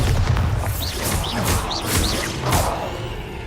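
Confringo and Bombarda spell blasts in Hogwarts Legacy: a series of booming magical explosions with whooshing sparkles, loud and layered over a steady low rumble.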